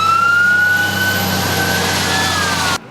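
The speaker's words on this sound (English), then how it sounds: "Paying attention to warning sirens could be a lifesaver this time of year in North Texas." A loud, sustained outdoor tornado warning siren in Grand Prairie, Texas drones at a steady pitch with a slow slight drift, then cuts off abruptly near the end.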